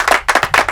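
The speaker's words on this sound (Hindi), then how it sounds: "तालियां बजाओ" A class of students claps hands in a short burst, a few uneven, close slaps bunched together with brief gaps between them, loud and alone with no talk.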